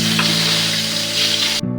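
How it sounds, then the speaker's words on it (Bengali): Singi fish fry in hot oil in a pan, producing a loud, steady, close sizzle that holds evenly for nearly two seconds before cutting off. "প্রথমে শিং মাছগুলো ভালো করে ভেজে নেব।"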